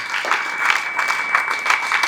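Brisk crowd applause for the chief guest at a Kenyan university alumni event, a dense patter of many hands held steady, with a faint sustained tone ringing through from the hall's sound system.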